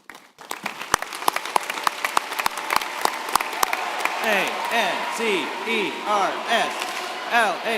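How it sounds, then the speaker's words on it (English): Crowd at a North Scott High School graduation ceremony: a few sharp, evenly spaced claps give way to swelling applause and rising, rhythmic cheering voices chanting together for the Lancers. "Lancer cheer one last time"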